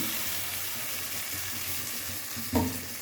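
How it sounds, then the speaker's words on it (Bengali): Spice paste of ground cloves, cinnamon and cardamom with bay leaf sizzles steadily in hot oil in a home kitchen, a soft continuous fry with one brief stir or clatter near the end. "মশলাটা দিয়ে একটু কষিয়ে নেব ভালো করে"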